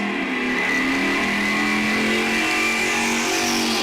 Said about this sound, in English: sportsman final, doing their burnouts